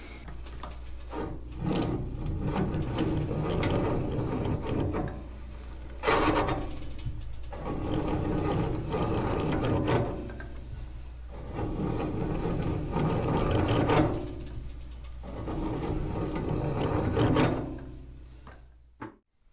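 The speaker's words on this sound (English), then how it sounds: "that key seat cutter is so sharp and that aluminum so soft" A sharp key seat cutter, turned by hand, cuts soft aluminum on a lathe for a Caterpillar D2 main bearing: a steady rasping, scraping drone in long strokes broken by brief pauses, close and fairly loud.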